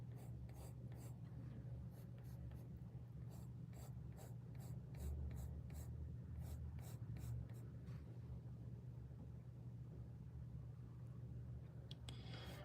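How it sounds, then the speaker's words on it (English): Pencil drawing on paper for a portrait, soft close scratching and rubbing strokes in quick bursts over a low steady background hum, fairly faint and without talk. "I'll be drawing for a while."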